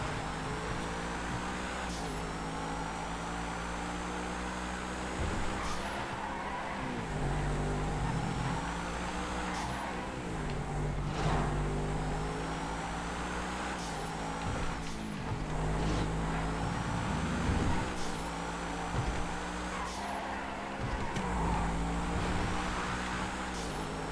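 Adder sports car engines racing in GTA V on a FiveM server during a multi-class race, a steady loud engine drone with shifting pitch and periodic surges for the whole stretch, no talk.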